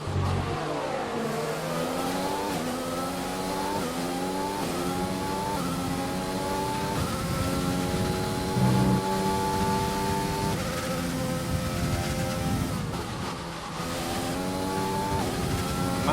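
Several F1 racing cars from the F1 2020 video game, on the Dutch circuit at Zandvoort, accelerate and rev steadily, their engines climbing and shifting through gears in overlapping layers that keep on throughout without a break.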